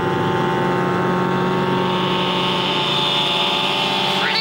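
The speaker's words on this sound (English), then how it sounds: "I've ridden a fair few motorbikes in my time, but I don't normally try standing up on them" A motorbike's steady engine drone runs throughout while riding, loud and close, with a rising whine near the end as it revs.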